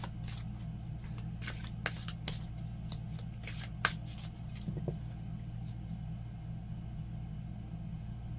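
Tarot cards are shuffled and cut by hand, giving soft, scattered riffles and sharp clicks that are faint and close, over a low steady hum with no one speaking.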